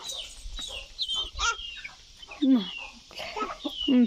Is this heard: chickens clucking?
yes